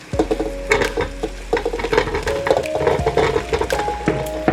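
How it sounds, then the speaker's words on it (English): Potatoes tumble into a pan of sizzling garlic and bacon, bringing a burst of knocking and scraping followed by steady frying hiss with repeated stirring clatter, close and clear. "I'm going to go ahead and add my potatoes in"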